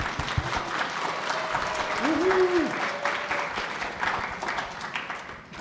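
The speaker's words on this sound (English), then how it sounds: "Let's give our volunteers a round of applause" A room full of people at a FIRST LEGO League kickoff event claps steadily for several seconds, a dense, even wash of applause with a brief voice rising faintly through it.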